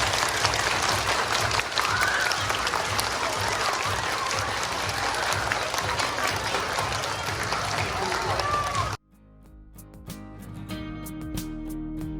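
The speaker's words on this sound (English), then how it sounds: "Everybody clap your hands." At a summer camp assembly, a crowd of campers claps and cheers loudly for about nine seconds amid lively voices, then the noise cuts off abruptly into music.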